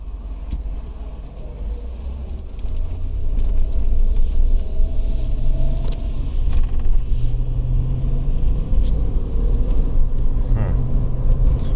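A 2013 Chevrolet Tahoe 4x4 with a 5.3L engine driving down the road, heard from inside as a steady low rumble of engine and road noise that swells after a few seconds and stays loud and even.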